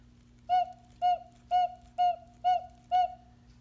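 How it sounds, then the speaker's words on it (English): A cuckoo clock's repaired bellows push air through its whistle, giving six evenly spaced short piping tones, clear and close against a faint background hum. "it's blowing air out the whistle right here."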